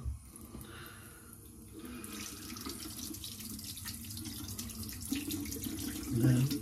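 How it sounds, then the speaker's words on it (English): Running tap water pours steadily over a straight razor being rinsed at a sink, a continuous close splashing wash that swells slightly louder toward the end. "Rinse it."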